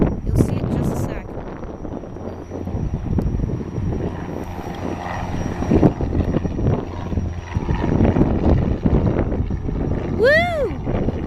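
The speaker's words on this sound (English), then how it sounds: "oh my god, another plane just took off." An airplane taking off, heard from nearby outdoors: a continuous loud engine roar with wind buffeting on the microphone and a rising whine near the end, while a person talks over it.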